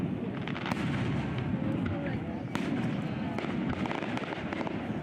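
A fireworks show launched from a barge on a lake at night, with repeated sharp bangs and booms at irregular intervals over a rumbling background, a voice talking over the blasts.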